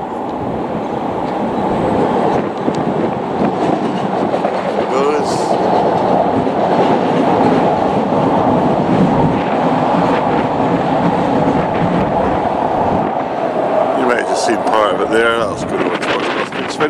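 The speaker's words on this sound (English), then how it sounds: "there's a train just about to come over" A train rumbles steadily over a bridge close by, with a continuous heavy roar and clatter through the whole stretch and a brief rattling burst near the end.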